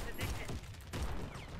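Rapid bursts of automatic shotgun fire from a Fostech Origin-12 in the Warface video game, two loud overlapping volleys in quick succession with game noise and a voice partly under them.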